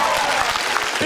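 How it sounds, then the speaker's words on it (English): Auction crowd at a retro gaming expo bursting into dense, loud applause right after a sale, a continuous wash of many hands clapping. "Big round of applause for Gerald and our gentleman bidder over here."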